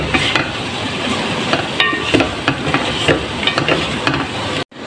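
A spoon stirs ridge gourd curry with crushed dried fenugreek in a hot pan, giving loud, steady scraping and sizzling with repeated utensil knocks, then a brief cutoff at the end.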